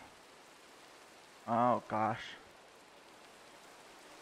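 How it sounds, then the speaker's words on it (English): Rain falling in the video game Minecraft, a soft, even hiss running steadily throughout, with a person briefly exclaiming in the middle. "And it's raining."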